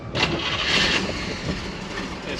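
A 1967 Chevrolet Camaro RS/SS V8 cranks and catches, then settles into a rough, rumbling idle. It is fairly close and moderately loud, with no talking over it.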